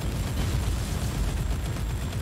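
A loud explosion in the video game Warhammer 40,000: Inquisitor - Prophecy rolls on as a dense, steady roar of rumbling blast noise for a couple of seconds, with no voices over it.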